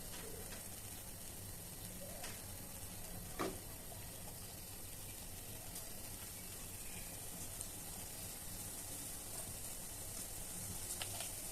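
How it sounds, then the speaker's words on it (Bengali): Boondi fries in hot oil with a steady, close, even sizzle and occasional small pops and clicks, continuing without speech for the whole stretch. "তো আমি এবার আবার ভেজে নেব।"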